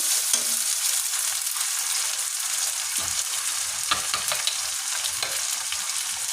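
Spice masala frying in a pan for a raw jackfruit dish, a strong steady hiss of sizzling oil close up with a few soft stirring knocks, uninterrupted and free of talk.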